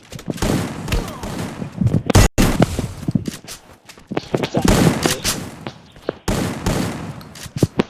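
Rapid bursts of gunfire from a video game 1v1 match, loud repeated shots in clusters with short pauses, mixed with game effects and some talk.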